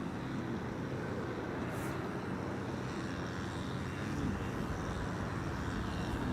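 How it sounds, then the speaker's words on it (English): An easyJet Airbus A320neo arriving at Amsterdam Schiphol makes a steady, broad jet roar that holds fairly distant and even throughout, with no voices over it. "this is the EasyJet A320neo arriving from London Gatwick"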